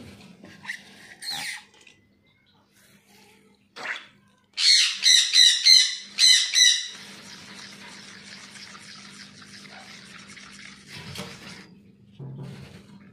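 Pet birds squawk in a quick cluster of loud, harsh calls, preceded by a few brief scattered squawks, with running water from a tap filling in the background afterward.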